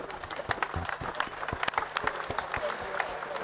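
Audience at an African aquatics zone swimming championship in Ghana applauding the swimmers, a steady patter of scattered claps at moderate distance with a hum underneath.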